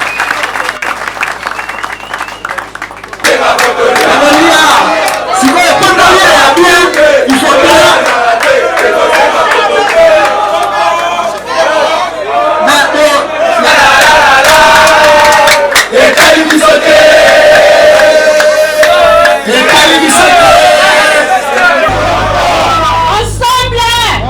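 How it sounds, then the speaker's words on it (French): A large crowd at a political rally applauds, cheers and shouts with whoops and yells, loud and continuous for a long stretch after a quieter opening with voices, and music or chanting running through it. "pour applaudir"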